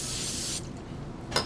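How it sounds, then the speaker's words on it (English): Cooking spray sprayed from a can onto plastic wrap in a kitchen: one steady hiss of about half a second, then a brief second spritz, close and clear. "we're going to spray a piece of plastic wrap with a little bit of cooking spray"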